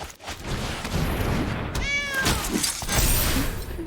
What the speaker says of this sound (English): the sound they used was meow